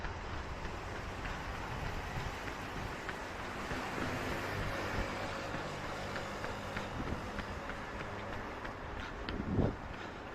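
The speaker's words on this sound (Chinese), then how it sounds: "这边为什么大家听这街上的车声大呢？" Continuous roar of petrol-car traffic on a busy street with few electric vehicles, a broad rumbling wash of passing engines with no single vehicle standing out.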